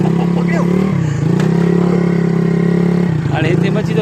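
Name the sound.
tractor engine driving past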